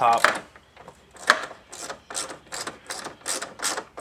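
Ratchet clicking in short repeated bursts while loosening a dash bracket bolt on a 1994 GMC Suburban, close up, the clicks fairly loud with some handling noise between strokes.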